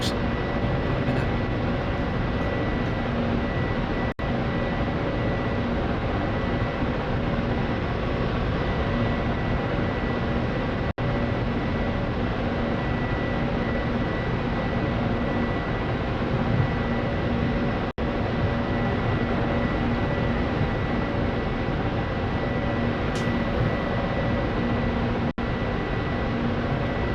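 Chinook helicopters in a video game fly overhead as a steady, loud drone of rotor and engine noise that runs unbroken throughout, with faint clicks now and then.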